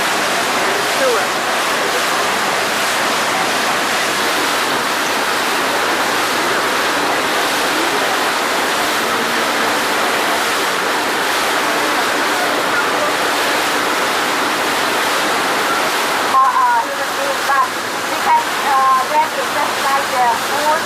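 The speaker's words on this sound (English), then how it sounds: "Splashing up there beside us." Water splashing beside a boat on a river in Southeast Asia, a continuous loud rushing wash with a boat's engine, steady throughout with a brief change near the end.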